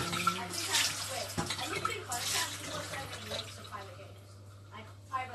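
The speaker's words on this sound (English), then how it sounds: "gonna rinse my jar" A glass jar being rinsed under a running kitchen tap while making water kefir, giving a steady rush of water with splashing shifts as the jar moves, close by, with talk over it.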